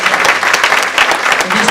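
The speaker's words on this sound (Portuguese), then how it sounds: "Vai dar um aplauso ao Senhor Jesus" A church congregation claps briskly and steadily, a dense burst of applause with no pause.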